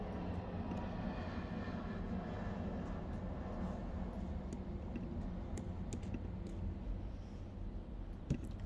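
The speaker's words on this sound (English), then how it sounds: "Did you hear that plane go by while I was getting set up here?" A distant airplane flies by, its engine drone a steady, faint rumble spread across the whole stretch, with faint clicks like keyboard typing in a quiet indoor room and no talking.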